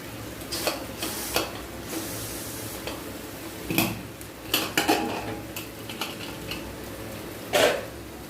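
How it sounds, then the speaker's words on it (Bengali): A pressure cooker of boiled kabuli chickpeas is opened, with several sharp metallic clanks and lid rattles spread unevenly over a quiet kitchen background, and no one talking. "এখন আমি প্রেসার কুকারটা খুলে দেখবো কাবলি চানা সিদ্ধ হয়েছে কি হয়নি।"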